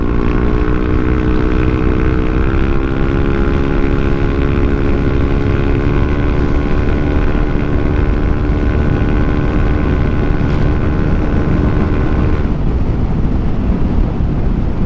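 A Yamaha Nmax Techmax scooter fitted with a performance center spring accelerates hard at full throttle, its engine whine climbing steadily in pitch, then dropping noticeably near the end, all under constant loud wind rush close to the rider.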